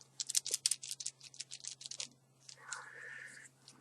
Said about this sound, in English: Giving you a little bit of a shuffle.